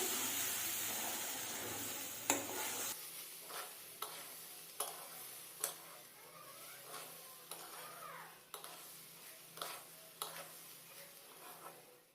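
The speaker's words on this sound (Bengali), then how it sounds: "ভাজতে হবে চালগুলো ঘিয়ের মধ্যে" Drained rice is fried in ghee in a pan: a brief hiss first, then rhythmic spatula taps and scrapes about once a second over a faint sizzle, close and quiet.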